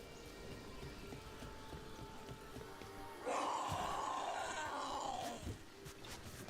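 Rain falls in the video game Dragon Age: The Veilguard, a soft steady patter that swells into a louder rushing burst midway before easing back, with no talking.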